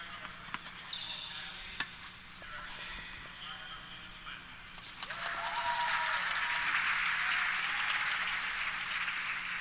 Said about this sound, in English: The applause you hear is from another match.